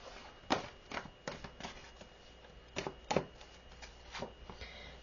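Tarot cards are shuffled by hand in a quiet room, a series of crisp riffling bursts at uneven intervals with short pauses between them.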